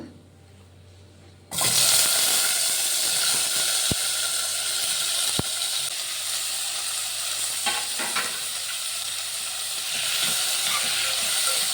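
Chopped tomatoes dropped into hot oil in a pan, bursting into a loud, steady sizzle after a quieter start, with a couple of sharp clicks and some stirring scrapes, close up and without talk.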